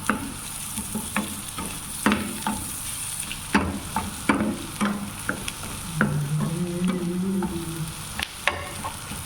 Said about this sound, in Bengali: এটাও একটু হালকা তেলে ভাজা নিমু